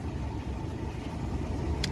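Toyota Prado engine idling smoothly with no overheating, a low, steady rumble heard up close and continuous, with a faint click near the end.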